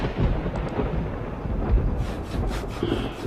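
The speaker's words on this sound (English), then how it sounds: "Come on, lightning." Deep rolling thunder from lightning in the video game Project Zomboid rumbles loudly and continuously, with a few brighter crackling bursts near the end.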